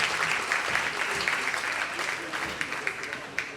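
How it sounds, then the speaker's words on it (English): An audience at a school's tenth-anniversary celebration claps steadily for the secondary students' performance. The applause is even and moderately loud throughout, with scattered individual claps popping out near the end. "Give another round of applause for the secondary students."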